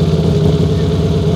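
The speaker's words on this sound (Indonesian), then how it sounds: "Up next kita ada Panigale V2 juga. Cuman ini knalpotnya dengan Termigoni." A Ducati Panigale V2 motorcycle fitted with a Termignoni exhaust, heard as a steady, loud engine drone with a throbbing mid-pitched note, close by and without talk.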